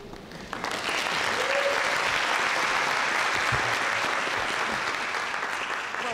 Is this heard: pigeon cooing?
no